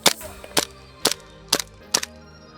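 Five sharp pops from a G&G SMC-9 gas blowback airsoft gun running out of gas, evenly spaced and growing slightly weaker, with faint hissing between shots.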